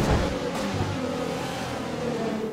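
F1 2020 Formula 1 cars at a slippery, rainy French Grand Prix start give a steady, moderately loud roar of engines accelerating, a dense layered whine continuing without break.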